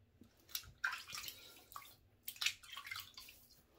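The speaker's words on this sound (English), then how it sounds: "So let me get the face wet." Water splashes as hands wet a face at a sink before shaving with a dollar-store razor, a handful of short, close slapping splashes and drips at an uneven pace, with no talk.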